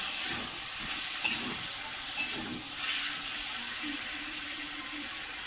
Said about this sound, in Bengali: তো মশলা ধোয়া জলটা মাথা ভাজাতে দিয়ে দেওয়া হলো।